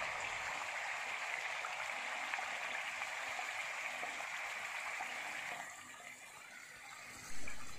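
Onion and tomato paste fries in hot oil, a steady bright sizzle that stays even for several seconds, then softens slightly before a brief knock near the end.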